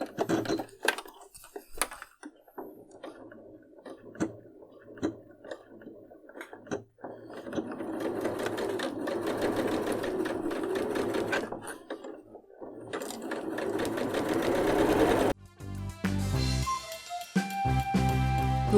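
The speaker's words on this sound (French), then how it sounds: "à la machine à coudre, on va venir coudre à environ 1 cm du bord chaque arrondi" Sewing machine stitching soft fabric for a rodent hammock: scattered clicks and handling noises first, then a sustained whirring, chattering run of stitches, and a final brisk burst of rapid mechanical stitching, close and without speech.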